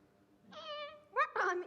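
A voice imitates a cat, giving a drawn-out meow followed by two shorter, sharper meows in quick succession.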